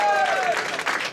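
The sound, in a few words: comedy audience applause for Ankit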